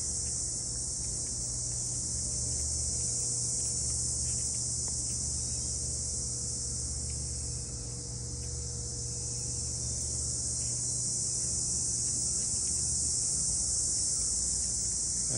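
Crickets chirping in a forest at dawn, a dense continuous high-pitched trill holding steady throughout over a quiet rural background with a faint low hum.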